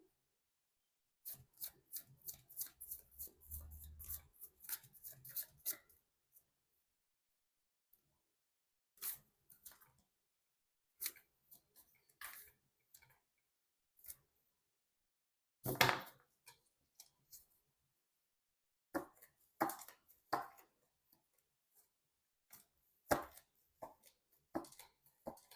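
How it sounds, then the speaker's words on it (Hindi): Tarot cards being shuffled by hand, a quick run of dense riffling flicks followed by scattered short bursts of shuffling and card slaps, close and fairly quiet with gaps of silence between. "कर लेती हूँ कार्ड की शफलिंग।"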